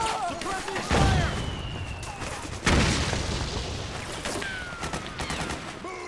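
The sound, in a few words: suppressing gunfire in the video game Metal Gear Solid 4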